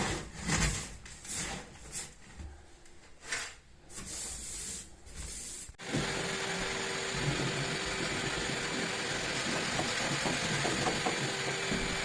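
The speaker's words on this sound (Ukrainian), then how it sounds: "зараз пилососом трошки ще пройдусь" A vacuum cleaner being run over a children's room after window-reveal renovation work: scraping and rubbing noises first, then the machine switches on abruptly and roars steadily and fairly close, with no talking.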